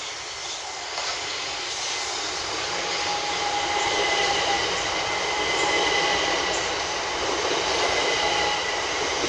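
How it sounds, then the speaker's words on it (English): A non-stopping train rumbles steadily through Carshalton station at speed, a broad continuous roar with faint whining tones and no voices. "The approaching train is not scheduled to stop at this station."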